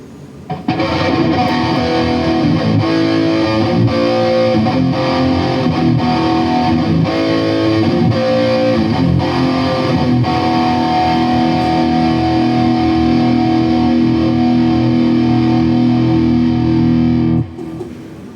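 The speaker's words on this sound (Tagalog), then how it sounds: "Ang overdrive na pinili ko ay distortion." Electric guitar through a Boss GT-1 distortion overdrive patch set for a metalcore tone, playing loud, sustained, heavily driven riffs for about seventeen seconds before stopping abruptly.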